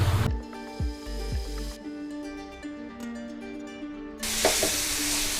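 A spoon stirs a sweet pumpkin filling in a pan as it thickens into a dough, producing soft scraping and a light sizzle beneath a bright sustained musical tone, with a burst of hissing near the end.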